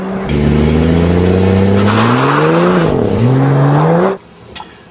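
A turbocharged car with a 6-speed ZF automatic launches off the line, its engine loud and close, rising in pitch through a gear change before cutting off abruptly.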